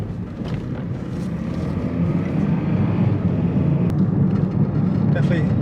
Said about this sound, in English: Definitely sounds a little rough. Like, might have like a bad wheel bearing, or have a flat spot,